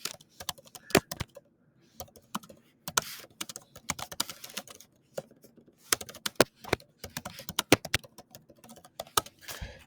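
Rapid bursts of typing on a computer keyboard, close and crisp, with irregular clusters of keystrokes separated by short pauses.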